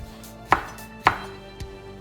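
A knife chops through tomato on a cutting board while cutting it into thin strips, giving two sharp close knocks about half a second apart and then a softer third tap, with no talking.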